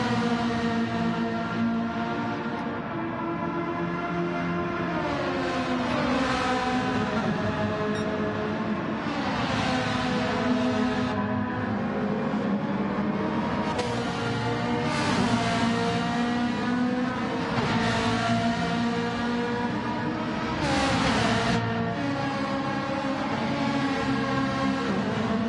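Race cars in an online racing video game league roar continuously at close range, their engines rising and falling through gear changes as one car chases another's rear bumper, with no talk over them.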